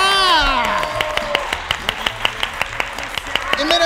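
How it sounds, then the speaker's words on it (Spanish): A crowd at a Guatemalan town fair claps in rhythm, sharp and close, keeping an even beat. A loud voice calls out over the first claps. "¡Un aplauso, pueblo!"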